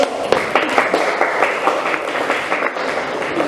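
Applause from an Indonesian classroom or training audience after a video is shown, with a dense, moderate patter of clapping that runs steadily throughout, a little distant.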